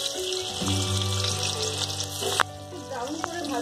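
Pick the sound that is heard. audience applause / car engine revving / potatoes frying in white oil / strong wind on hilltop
potatoes frying in white oil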